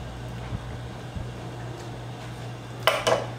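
A spoon stirs rice with pigeon peas and coconut milk in a pot, giving soft scraping and squishing sounds that end in a couple of brief louder clinks against the pot, over a steady low hum.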